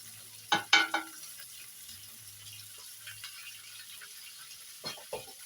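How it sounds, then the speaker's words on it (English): Margarine stirred through cooked spaghetti in a pot, a few soft wet squelches and scrapes near the start, a quiet hiss in between, then two more brief stirs at the end. "And we are going to stir the margarine"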